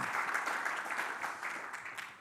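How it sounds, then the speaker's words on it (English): A crowd claps steadily, a dense patter of many hands at moderate distance that fades slightly toward the end. "give yourselves a round of applause"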